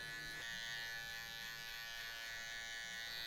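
An electric hair trimmer hums steadily and close up through a fade haircut, its buzzing drone holding even and unbroken throughout.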